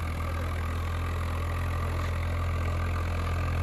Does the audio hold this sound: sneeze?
no